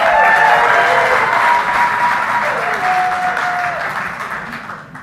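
A large crowd claps loudly at a beer award ceremony for the Canada Beer Cup 2024, dense sustained applause that gradually fades over several seconds, with a voice speaking over it.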